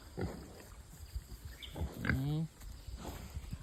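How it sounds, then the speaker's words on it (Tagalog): Free-range pigs give a few low grunts and one drawn-out squealing oink close by, with faint rustling steps around them. "nandito yung mga alaga naming baboy"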